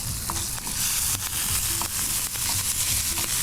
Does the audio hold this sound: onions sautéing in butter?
yes